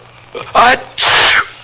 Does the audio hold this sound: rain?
no